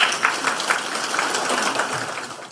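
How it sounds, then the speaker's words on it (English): Clapping from an audience at a university chancellor's spring soiree, welcoming a student speaker to the stage. It comes as a steady, dense wash of many hands that holds evenly throughout before easing slightly at the end. "Please give him a round of applause"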